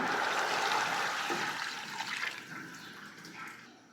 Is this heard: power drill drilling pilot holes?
no